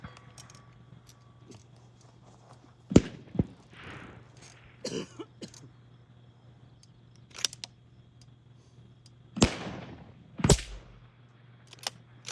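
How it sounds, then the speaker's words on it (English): Rifle shots at a precision rifle stage with bullets striking steel targets, several sharp isolated reports spaced seconds apart over quiet outdoor background, each with a short ringing tail. "That was an impact, right?"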